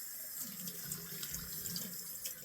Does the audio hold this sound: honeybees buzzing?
no